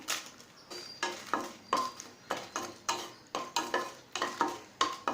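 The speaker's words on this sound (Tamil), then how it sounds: "இப்போ மிளகாய் நல்லா வறுத்தாச்சுங்க." Five dry red chilies roasting in a pan for peanut chutney, a spoon scraping and clinking against the metal in a regular rhythm of roughly two strokes a second over a light sizzle, close and moderately loud.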